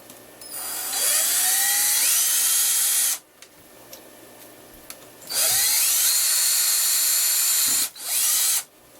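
A power drill bores a hole in PVC pipe in a fish room, two long, loud, high-pitched whining bursts with a short quiet gap between them and a brief final spin.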